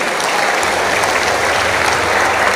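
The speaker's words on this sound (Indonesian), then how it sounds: "Tepuk tangan untuk NKRI." A crowd at an Indonesian speech event breaks into sustained, loud applause, a dense steady wash of clapping throughout.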